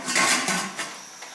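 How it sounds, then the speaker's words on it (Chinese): A lid clatters onto a pot of lamb spine hotpot in a home kitchen with a short, bright metallic clank and rattle, then a few lighter knocks as it settles. "下面再加上葱段儿、姜片、花椒粒，搁上锅盖。"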